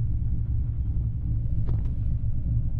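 Exhaust rumble from a Nissan 240SX tuner car, a steady, deep low-frequency drone that fills the cabin without letup and carries a couple of faint higher ticks over it.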